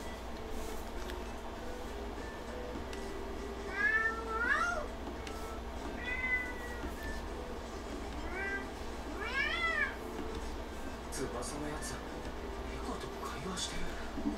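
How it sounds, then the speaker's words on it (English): A cat meowing in the video game Tokyo Mirage Sessions #FE Encore, several short rising meows spread across the stretch over a steady low background hum, fairly faint. "Tsubasa's communicating with a cat."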